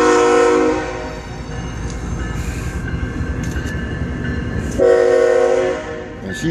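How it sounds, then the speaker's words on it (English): A slow freight train of about 100 cars rumbles past close by, wheels clattering steadily, with a loud horn blast at the start and another sounding again near the end. "Only train in the country blocking me."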